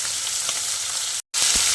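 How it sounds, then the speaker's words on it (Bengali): Steady, close sizzling of three bata fish frying in oil in a small wok, a constant crackling hiss with a brief drop-out near the end before the sizzle resumes. "কড়াইটা যেহেতু ছোটো, তাই 3টে মাছ দিয়ে মাছগুলোকে ভেজে নিচ্ছি"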